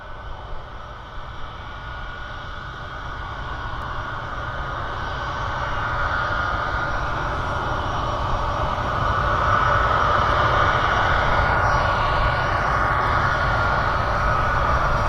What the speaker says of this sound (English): Our C-17 over in the background there is still making a mind up as to what he's going to do.